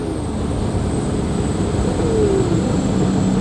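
A C6 Corvette's loud exhaust gives a steady, droning roar with a thin high-pitched whistle riding above it, continuous and fairly loud throughout, resembling a fighter jet flyby.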